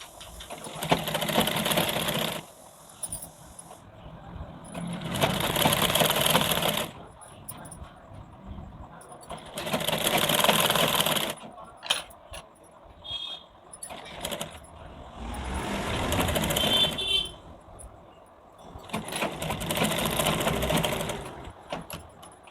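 A sewing machine stitches a blouse collar in about five loud, close bursts of rapid running, each lasting a few seconds and separated by quiet pauses.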